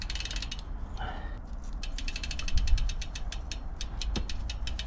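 A bicycle chain is pulled through the drivetrain of a gravel bike with a 1x chainring, producing a close, rapid ratcheting tick from the freehub that speeds up toward the end over quiet background noise.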